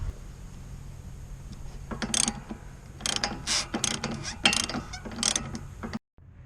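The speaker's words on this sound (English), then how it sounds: "So let's start wrenching on it." A hand wrench loosening the nuts on a steering stabilizer of a lifted truck, close up, with clustered bursts of ratcheting clicks and metallic turning against quiet shop background.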